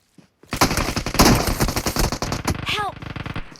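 Rapid bursts of automatic gunfire in a mobile battle-royale shooter, loud and dense, with rattling volleys running almost the whole time and a brief synthetic sweep near the end.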